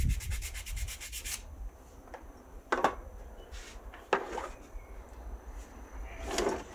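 PVA glue is rubbed across a piece of wood close by, soft and steady rubbing and scraping, with a few brief sharper scrapes and knocks scattered throughout.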